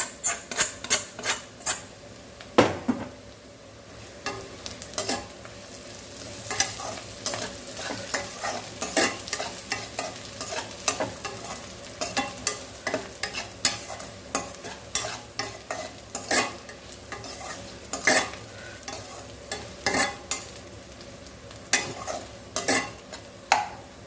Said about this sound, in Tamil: நல்லா வதக்கி கொடுத்துட்ருக்கேன் கொடாம்புளி சேர்த்துருக்கேங்க